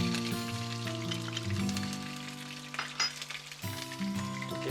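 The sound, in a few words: shallots and garlic sautéing in a pan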